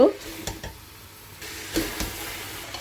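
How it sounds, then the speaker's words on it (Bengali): Chicken and pre-fried potatoes sauté in a pan, a soft sizzle under a few scraping stirs and clatters, close by and moderately quiet. "এর মধ্যে দিয়ে দিলাম ভেজে রাখা আলুগুলো এবার এটাকে দিয়েও আমি ভালো করে কষিয়ে নেব"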